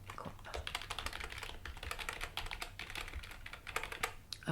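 Rapid, steady clicking of fingers typing on a computer keyboard, close and fairly soft, continuing without pause and with no voices.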